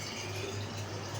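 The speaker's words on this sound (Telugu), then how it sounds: "మా ఆయనకి బాటిల్లో అయితే హాట్ వాటర్ పెట్టేస్తున్నాను" Hot water is poured into a bottle at home, giving a soft, steady stream of liquid filling the container. It runs quietly and continuously with no talking over it.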